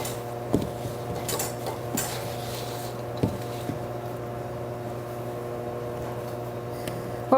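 Egg whites being folded into French macaron batter, soft scraping and a few sharp utensil taps against a bowl, close and quiet over a steady background hum.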